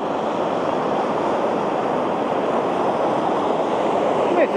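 Water pours over a dam beside the Lock Haven levee in a steady, loud, broadband roar that stays constant throughout.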